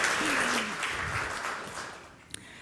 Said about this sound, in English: Please applause. Big applause.